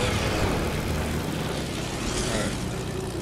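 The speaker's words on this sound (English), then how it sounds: "I got a plane if you guys want to all hop on." Steady droning engine of an airplane in Fortnite, a continuous moderate-level hum under game sounds without clear changes in pitch.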